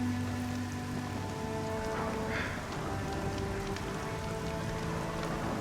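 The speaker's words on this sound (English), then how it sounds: "Now it's raining." Steady rain pattering on surfaces in the video game Horizon Zero Dawn, a continuous, even wash of drops with a low background rumble, no voices.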